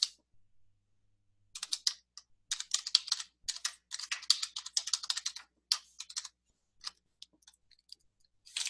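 Code is typed on a computer keyboard in quick, crisp bursts of close keystrokes, separated by short pauses and ending with a few isolated taps, with no voice.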